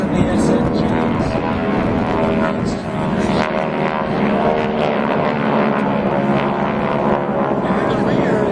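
T-6 and SNJ trainer aircraft fly in formation at an air show, their radial propeller engines roaring loud and sustained overhead while an announcer talks over them.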